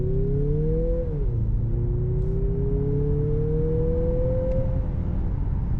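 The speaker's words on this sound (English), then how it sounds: "See how the acceleration is on wet" A Mazda CX-50 with all-wheel drive and 256 horsepower accelerates hard in sport mode on a wet road. Its engine note climbs steadily and loudly, with a brief dip near the start, like a gear change, before rising again.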